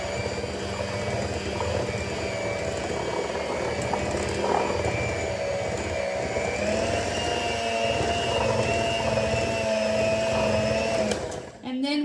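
Electric mixer whirring steadily through apple kuchen cake batter, a continuous loud motor hum with a slight shift in pitch partway and a sudden stop at the end, with a voice speaking over it.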